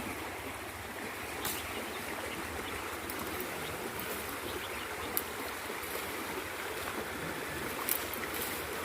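Water flows steadily over stones in a shallow stream, a constant rushing babble with no voices.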